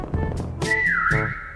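In a prop hunt hide-and-seek video game, a hiding player's whistle rings out as a single clear, fairly loud tone that slides down and back up, following a few short sounds.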